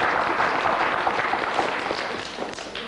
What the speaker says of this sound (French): Ben, on l'applaudit bien, franchement.